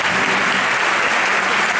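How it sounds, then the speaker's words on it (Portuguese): Concert audience at Sesc Pinheiros claps steadily for the Risco record label during a show, a dense, even wash of applause that fills the whole moment with no voices over it. "Aliás, palmas pro selo Risco,"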